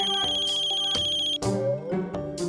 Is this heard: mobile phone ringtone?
yes